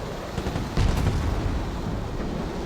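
A tank cannon fires an armour-piercing sabot round in the Broken Arrow war game, one heavy boom near the start and a rumbling tail over continuous battle noise.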